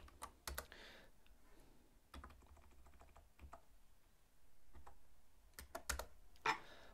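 Quiet computer keyboard typing at a desk, short clusters of keystrokes separated by pauses, with a few sharper clicks near the end and no talking.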